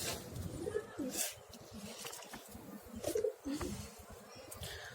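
Domestic pigeons coo in soft, repeated rounds close by, with a few flutters and rustles between calls and no talking.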